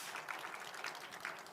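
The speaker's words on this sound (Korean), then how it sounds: "박수 부탁드립니다." A conference audience applauds after a presentation on CO2 freeze-capture systems for ships, giving a short burst of scattered hand clapping that sounds faint and distant.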